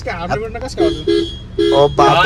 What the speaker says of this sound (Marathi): हॉर्न एक नंबर वाटतंय नाही का